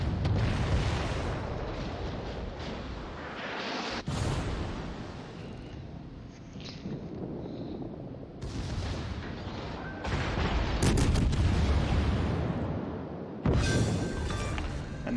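Heavy naval guns fire in World of Warships during a cruiser battle against the destroyer Haida, booming salvos and rumbling explosions that roll steadily for the whole stretch, loud and close with no speech.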